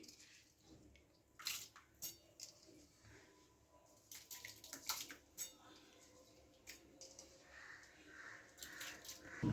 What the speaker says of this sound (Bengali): এবার আমি গোবিন্দভোগ চালটা দিয়ে দেবো ভিজিয়ে রেখেছিলাম তিরিশ মিনিট